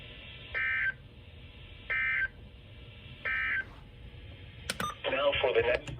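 NOAA Weather Radio EAS test alert tones: three identical steady two-tone bursts, each about a third of a second, evenly spaced over faint background hiss, followed by a short burst of broadcast audio at the end.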